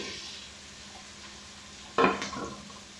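Tomatoes go into a hot pan with a brief clatter and a burst of sizzling at about two seconds, then a spoon stirs them, all set against a low steady kitchen hum.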